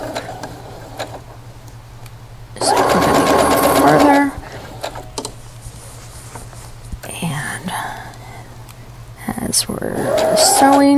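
A sewing machine stitches a clamshell quilt in short bursts of rapid, close whirring. Quiet pauses and soft handling noises fall between the bursts, and a low voice talks now and then.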